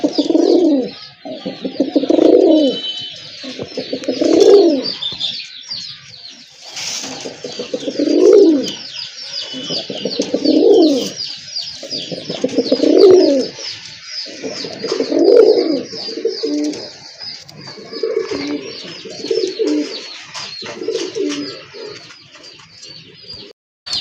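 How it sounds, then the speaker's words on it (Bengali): A pair of pigeons coo in steady repeated bursts, about a dozen low throaty calls a couple of seconds apart, close and clear, with faint twittering of other birds in the background. "দেখার মতো এক জোড়া কবুতর"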